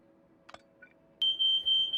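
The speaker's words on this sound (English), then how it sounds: "Fire alarm." A kitchen smoke alarm, triggered by food cooking, starts suddenly and sounds a loud, steady high-pitched continuous tone after a few soft background clicks.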